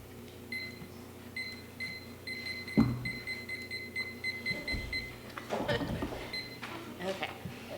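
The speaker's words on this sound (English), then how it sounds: "I set my own timer" A beeping timer alarm sounds in repeated bursts of high electronic beeps during a medical conference session, continuing steadily while people talk and move nearby.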